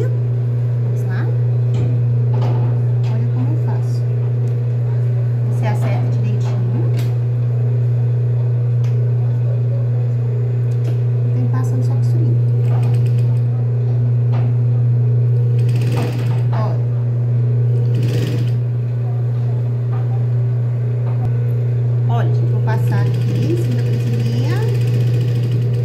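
Sewing machine stitching the seam of children's wrap shorts, with a loud, steady motor hum running continuously and close, and someone talking over it at times.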